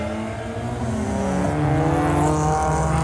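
A four-cylinder car drives past on a street at a Saturday-night car meet in Kuantan, its engine a steady, moderately loud drone with a rising pitch at the end, heard alone without talk.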